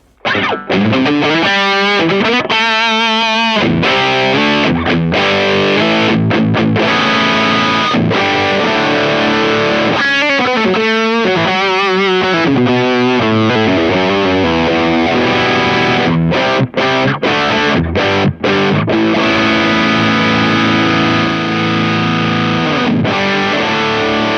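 An electric guitar played through an IK Multimedia X-Drive overdrive pedal and an amp gives loud, continuous distorted chords and riffs with sustained notes and brief choppy stops.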